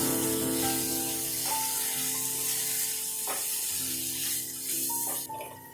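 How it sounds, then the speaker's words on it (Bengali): Paneer bhurji with chopped capsicum sizzles in a pan as it is stirred, a steady frying hiss with a few soft scraping strokes, close and alone with no voices. "সব কিছু ভালো করে মিশিয়ে নেব।"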